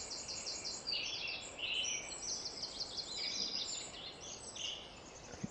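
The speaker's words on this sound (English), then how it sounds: "Don't know if you can hear those birds." Birds sing and chirp in quick overlapping high phrases around a morning wild camp, faint and steady with no talking.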